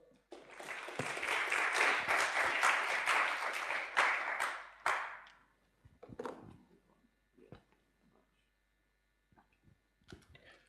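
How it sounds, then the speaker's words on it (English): Conference audience applause erupts loudly and holds for several seconds, then dies away into scattered claps and small clicks. "Big round of applause."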